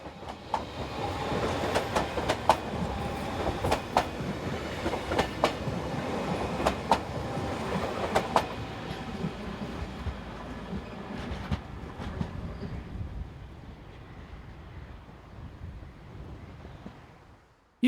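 A passenger train in Germany, departing toward Nienburg, rumbles and clatters steadily with rhythmic wheel clicks, then slowly fades into the distance as it pulls away.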